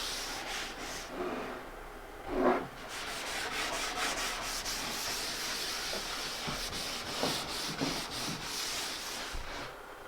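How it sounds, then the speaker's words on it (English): A 3M Scotch-Brite 350 pad applies light coats of finish to a wooden board, rubbed in circles across the grain, making a soft, continuous scrubbing hiss with a few slightly louder strokes, close but quiet. "The technique here is I'm rubbing this across the grain in circles"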